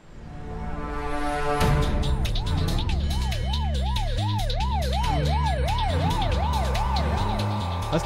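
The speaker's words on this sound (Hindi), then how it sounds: "अस्पताल में जब कोई एम्बुलेंस सायरन बजाती हुई दाखिल होती है" An ambulance pulls into a hospital with its siren wailing, a loud rising-and-falling electronic tone repeating steadily over engine rumble, close and continuous for several seconds with no talk.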